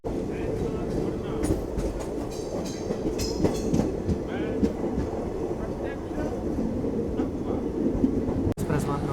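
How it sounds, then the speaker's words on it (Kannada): The Tirupati Express rumbles along the rails near Kengeri in loud, continuous close-up running noise, with wheel clatter and rattling carriage sounds throughout and voices faintly underneath. "ತಿರುಪತಿ ಎಕ್ಸ್ಪ್ರೆಸ್ ಎಂಟ್ರ್ ಆಗೈತೆ ಈಗ ಕೆಂಗೇರಿಗೆ"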